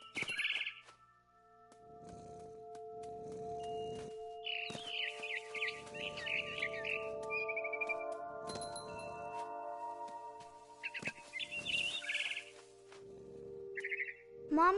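Repeated bursts of barn swallow chirping in the video game What Remains of Edith Finch, scattered twittering phrases spread over a calm droning ambient backdrop with soft low thumps between calls.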